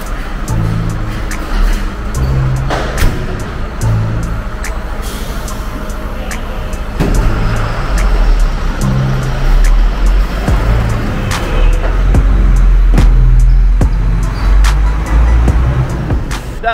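Fire trucks at a fire and rescue training drill in Zhongshan, China, start their engines and pull away: loud, continuous low engine rumble that swells and builds over the whole stretch, with no talk.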